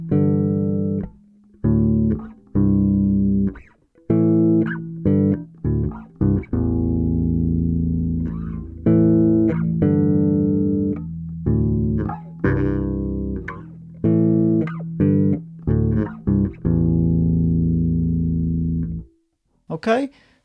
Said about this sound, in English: I've also got my bass with me right now. So I'm just going to play a few notes for you.